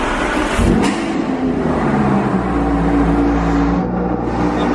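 An Audi R8 drives through Monaco in summer, its engine humming steadily with a low rumble and a brief sharp rise early on, close and fairly loud.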